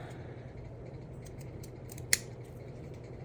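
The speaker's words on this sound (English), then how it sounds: "Probably gonna trim a little bit more off" A single crisp snip of scissors trims a paper craft background, one short sharp cut standing out against a quiet room hum.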